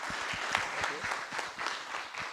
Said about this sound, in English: Please join me, give a round of applause to our panelists today.